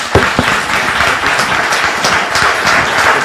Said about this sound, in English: give these players a round of applause.